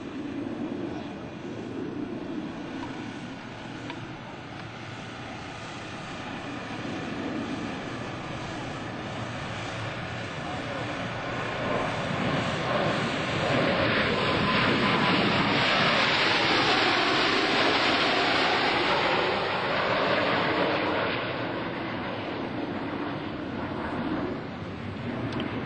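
US Navy Blue Angels F/A-18 jets pass in echelon formation at an airshow at NAS Oceana, a broad roaring jet rumble that swells to a loud peak midway and then eases off, with faint commentary underneath.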